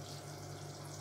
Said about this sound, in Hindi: इसमें थोड़ा पानी जाएगा